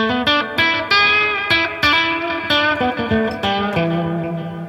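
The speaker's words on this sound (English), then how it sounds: "But with stereo and with delay and reverb, you get this." Electric guitar plays a steady run of picked notes through a Behringer DR400 digital reverb and delay pedal, each echoing through stereo delay and a spacious reverb tail, with no talking.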